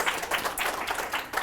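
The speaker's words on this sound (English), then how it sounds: "So if we can give a big round of applause and welcome Miss Andi." A small group of people clapping in short, uneven bursts at a talk on stress and happiness, fairly light and sparse rather than a full ovation.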